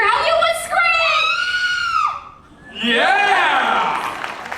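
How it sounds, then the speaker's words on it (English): A woman in the audience at a live special effects show at Universal Studios Hollywood gives two long, high, piercing screams with a short gap between them. The screams are loud and close. "Let's all hear how you would scream!"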